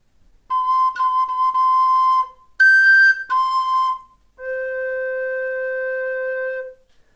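A Romanian fluier, a shepherd's flute with its holes properly covered, plays several clear, breathy whistled notes in sequence, ending on a long held lower tone, loud and close with no talk.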